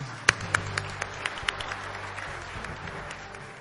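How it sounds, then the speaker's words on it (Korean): Applause from a forum audience welcoming a committee chairman to the stage at the opening ceremony of the 2010 World Strategy Forum, with scattered sharp claps at first, then a soft, thinning patter that stays fairly quiet. "어윤대 위원장님을 박수로 맞이해 주십시오"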